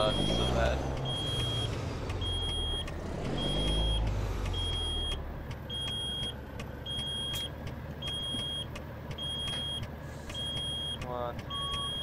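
Low air pressure warning buzzer in a truck in American Truck Simulator, beeping steadily in a regular rhythm of short tones over the constant rumble of the engine, with someone talking early on.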